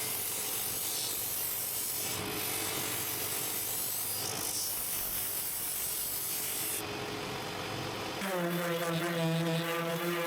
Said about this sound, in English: To shape the corners to the perfect shape, I use the bench disc sander.